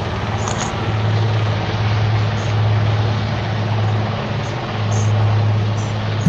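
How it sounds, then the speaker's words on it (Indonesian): Helicopters carrying the red and white Indonesian flag fly overhead during an Independence Day display, giving a steady loud engine and rotor drone with a low hum that holds throughout. "ada atraksi helikopter membawa bendera merah putih di udara"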